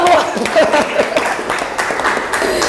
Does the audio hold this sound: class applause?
yes